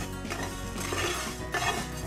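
Rasam ingredients being dry roasted in a pan for a keerai rasam, with faint metallic scraping and clinking of a spatula against the pan, quiet and continuous.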